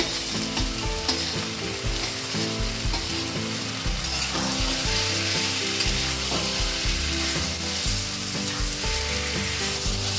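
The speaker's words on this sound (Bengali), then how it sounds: "এখন ভাজা করে রাখা সবজিগুলো ঢেলে দিচ্ছি।" Pre-fried vegetables, for a fish curry with drumsticks and potatoes, sizzle and crackle steadily in a hot pan of spiced oil while being stirred, close and continuous, with no talking.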